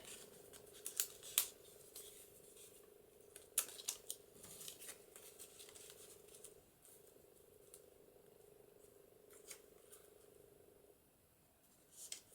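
Scissors cut paper for a junk journal craft page, making faint, crisp snips in a few scattered clusters. A steady low hum sits underneath in a quiet room.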